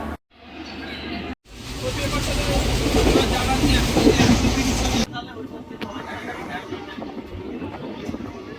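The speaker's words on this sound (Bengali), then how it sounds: "তো এই হচ্ছে প্রয়াগরাজ স্টেশন" A train rolls through Prayagraj railway station on the Netaji Express route, a loud rumbling clatter that swells and holds for several seconds before dropping to quieter station noise.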